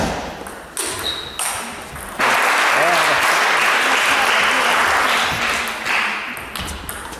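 Spectators at an amateur table tennis match break into a burst of clapping that swells and then fades, preceded by sharp ball pings and knocks, with voices talking over it.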